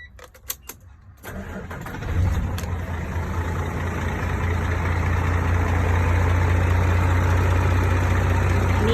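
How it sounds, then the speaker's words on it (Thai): A Hino JO8E 240 hp six-wheel dump truck diesel engine starts after a few light clicks and settles into a steady, loud, low idle rumble that continues to the end. "เสียงเครื่องเขานะคะ"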